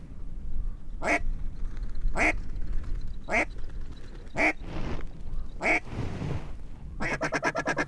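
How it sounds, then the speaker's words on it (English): Ducks quacking during a duck hunt: a steady series of loud, sharp quacks about once a second, ending in a rapid run of calls, over outdoor background noise. "More ducks coming."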